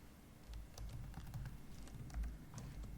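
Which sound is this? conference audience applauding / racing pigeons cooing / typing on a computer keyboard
typing on a computer keyboard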